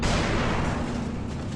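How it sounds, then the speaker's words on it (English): A tank cannon fires in a video game with one loud, close, booming blast that rolls into a dense rumbling explosion and fades over a second and a half. "I can shoot at enemy tanks and they blow up."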